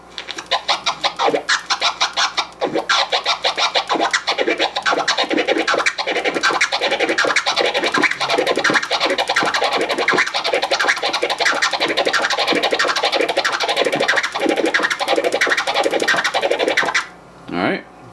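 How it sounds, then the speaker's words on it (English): DJ scratching on a turntable, a Kermit combo of two short chirps followed by a flare twice as long, repeated in a steady rhythm that starts slow and speeds up, loud and close, ending with a brief pause and a final scratch. "the Kermit is two chirps followed by a flare that's twice as long"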